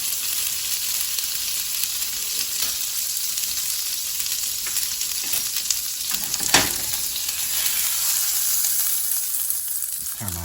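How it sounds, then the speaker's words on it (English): Butter melting in a pan for a lobster omelette gives a steady, close sizzle and crackle, with a few sharper pops along the way. "So I'm gonna get some of this butter, let that melt down."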